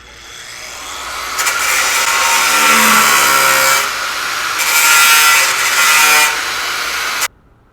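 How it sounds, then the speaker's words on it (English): An angle grinder works on stitch welds on the steel strut tower of a VW MK1, a loud, rising abrasive whine that swells and dips as it bites the metal, then cuts off abruptly. "let's grind out some stitch welds"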